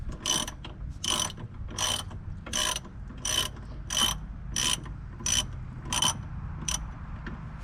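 A ratchet loosens the brake caliper bolts on a 2009 C6 Corvette in a steady series of about ten sharp clicking bursts, close and clear with no talk.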